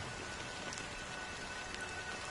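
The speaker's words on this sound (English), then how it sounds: "But it's still raining." Steady rain falls in a constant, soft hiss, with faint scattered drops on a surface and no other sounds.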